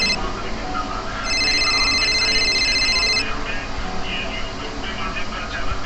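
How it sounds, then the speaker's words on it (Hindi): A telephone rings with a bright, repeating electronic tone for a couple of seconds over a steady background hum, then stops. "ये देखो, मेरे लड़के का ही फोन आ गया।"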